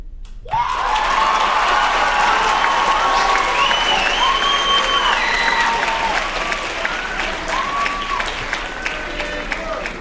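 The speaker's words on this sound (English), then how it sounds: "Let's have a huge round of applause for Katie, Maya, Denise, Maya, Isma, Kramer," Sustained loud applause and cheering with whoops from an audience at a school writers' week event; dense clapping starts abruptly and carries on for about ten seconds with shouts rising over it.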